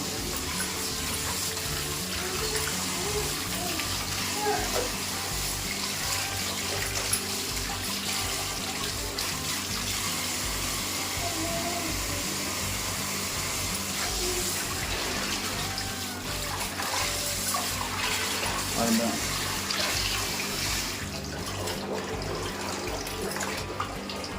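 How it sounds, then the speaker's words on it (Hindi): Tap water runs steadily from a motor-pumped supply while vegetables are washed in a home kitchen, a continuous close splashing flow with faint clatter on top and no talking. "हम सब्जी धुल रहे हैं और अभी मैंने चालू की थी मोटर"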